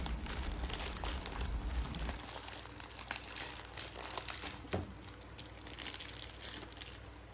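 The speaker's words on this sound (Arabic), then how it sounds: "بعدين نحط كيس الاندومي." Plastic Indomie instant noodle packet crinkling and rustling continuously, loud and close, during cooking of yellow chicken-flavour noodles.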